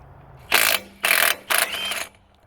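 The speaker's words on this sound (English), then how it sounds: "Let's put the impact wrench to work." A Milwaukee M18 FUEL 18V 3/8 in. mid-torque impact wrench hammering off rusty lug nuts in three loud, close bursts of rapid rattling impacts separated by short pauses.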